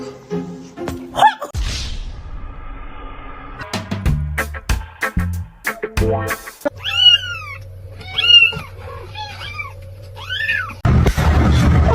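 Several kittens meow repeatedly in bright, rising calls across the second half, close and clear, after a stretch of scattered thumps and household noise.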